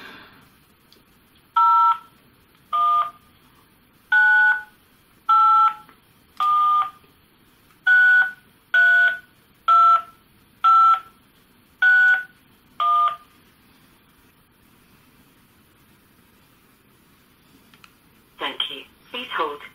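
Eleven telephone keypad DTMF tones sound one after another at an even pace, entering a phone number on a call to BT's broadband line, followed by a short burst of other tones after a pause.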